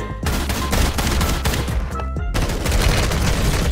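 Gunfire erupts in the video game Warzone, including a fire-round shotgun. It is a dense, loud barrage of rapid shots and booming blasts with a brief pause midway, then more sustained firing.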